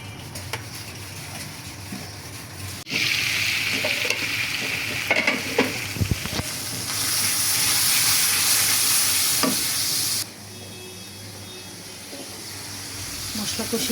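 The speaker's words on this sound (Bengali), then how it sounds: "মশলা কষিয়ে নিলাম, এবার ছোলাগুলো রান্না করে নিচ্ছি।" Chickpeas cook and get stirred into fried spices in a hot pan, a loud sizzle and hiss that swells and fades with scraping stirs, under intermittent talk.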